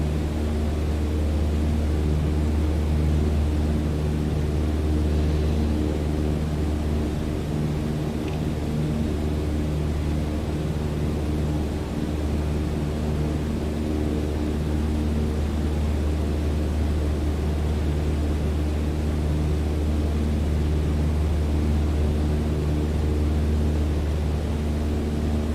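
Cessna 172 engine in Microsoft Flight Simulator 2020, a steady droning hum with a constant low tone, unbroken and even throughout, no voices.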